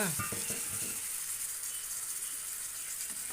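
Black-eyed peas (bobbarlu) frying with green chilli, turmeric and ginger in a pan for a tomato curry: a steady, close sizzling hiss, with a few stirring scrapes at the start.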